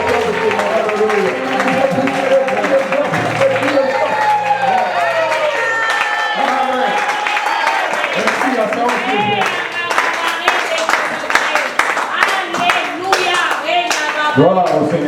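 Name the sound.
congregation clapping and cheering for preacher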